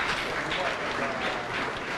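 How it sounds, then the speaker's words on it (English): At the commissioning of Ghana's Parliament museum, an audience applauds for the Speaker of Parliament, a steady crowd clapping heard at moderate distance with faint voices mixed beneath. "A round of applause for Mr. Speaker."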